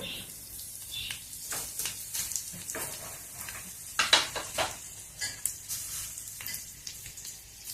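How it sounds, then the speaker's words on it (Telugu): Garlic, mustard seeds, cumin and dried red chilies fry in hot oil in a pan, a steady close crackle and sizzle punctuated by popping seeds and faint utensil scrapes, without speech. "ఆవాలు, జీలకర్ర, ఎండుమిర్చి కొంచెం వేయించుకున్నాము."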